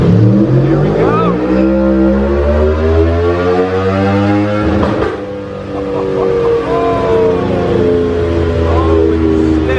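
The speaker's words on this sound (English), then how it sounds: "he's gonna run it in 4th or 5th gear, I'm not sure which. Oh, this thing's gonna sound glorious." An Aprilia Tuono motorcycle with a 1100 V4 engine revving hard on a dyno in a high gear, loud and close, its pitch climbing steadily, dipping briefly, then climbing again, with voices underneath.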